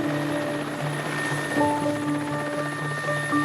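A helicopter drones steadily nearby with a low rotor hum and engine whine, holding fairly constant throughout.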